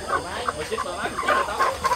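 Free-range chickens being caught on a farm cluck and squawk in repeated close, fairly loud bursts, agitated calls overlapping, with a voice in the background.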